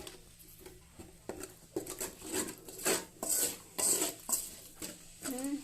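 Noodle seasoning frying in a pan while cooking chicken noodles, heard as intermittent scraping, clinking and sizzling stir sounds at low volume, with faint background noise.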